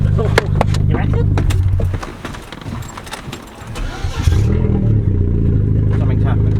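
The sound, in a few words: 330 bhp Vauxhall Corsa VXR engine running with exhaust off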